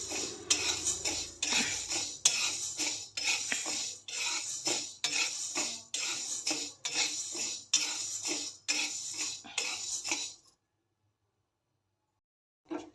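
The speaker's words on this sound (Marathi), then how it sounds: "शाबुदाने चांगले भाजलेले आहेत फुला लागलेले आहेत" A spatula scrapes and stirs rhythmically in a pan, dry-roasting sago pearls until they puff up, about a dozen steady strokes, then stops and goes quiet.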